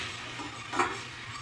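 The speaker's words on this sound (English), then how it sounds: "I'll add the flour and I'll whisk that together." Flour whisked into melting butter in a pan for a Welsh rarebit roux gives a faint, steady scraping hiss with one brief clink of the whisk midway; no one speaks.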